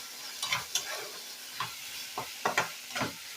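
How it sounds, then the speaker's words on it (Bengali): Spice masala frying in oil for a pomfret curry, a soft sizzle broken by a handful of sharp spatula scrapes and taps against the pan, quiet and close with no voices. "যতক্ষণ না মশলা থেকে তেল ছাড়ে ততক্ষণ কিন্তু মশলাটাকে ভালো করে কষিয়ে নেব।"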